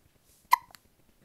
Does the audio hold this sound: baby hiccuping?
yes